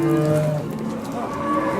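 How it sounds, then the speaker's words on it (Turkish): Cows moo at a busy livestock market, a loud drawn-out low call up close that wavers and trails off, with faint market bustle behind. "Bu tarafta inekler var"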